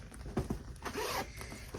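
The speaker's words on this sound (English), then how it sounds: "Recessed zipper" A recessed zipper on a fabric tote bag, pulled in a few quick, close rasping strokes with short pauses between them.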